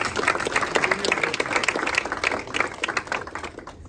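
An audience at a Kenyan diaspora conference breaks into applause for a speaker, with dense clapping from many hands that stays strong and then tapers off toward the end.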